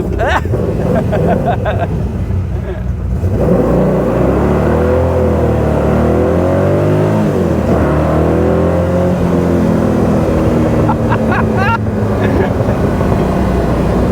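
An AC Cobra accelerating hard and breaking traction at the rear, its loud engine note climbing and falling through revs from inside the car, with people talking over it.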